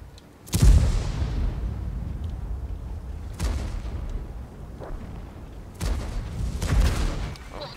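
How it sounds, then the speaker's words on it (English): Artillery fire in the tank game World of Tanks, three heavy booming impacts spaced a few seconds apart, each a loud low blast with a rumbling decay, under a steady low battle background. "There's the artillery, fabulous. So artillery's trained on this position."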